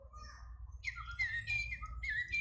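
A Little Live Pets toy talking bird sings in a burst of bright electronic chirps and warbles, loud and close, over a steady low hum.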